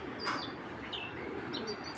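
Racing pigeons coo softly in a loft, a few faint, brief calls over a steady background hum.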